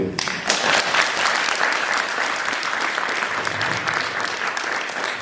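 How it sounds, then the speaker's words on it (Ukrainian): Sustained applause from an audience honouring a choir's sixty-year anniversary, a thick, even wash of many hands clapping throughout without a break. "оплески"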